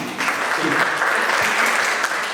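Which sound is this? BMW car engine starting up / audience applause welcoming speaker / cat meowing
audience applause welcoming speaker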